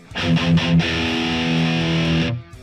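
Heavily distorted electric guitar through a JCM800 amp simulation with gain around 6, playing a classic thrash metal tone: a few short chugged stabs, then a long sustained ringing chord that cuts off abruptly.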